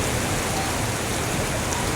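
Steady, heavy rain pours onto the streets of Alexandria's Azarita district, a dense, unbroken hiss of drops on pavement that stays close and loud throughout with no voices.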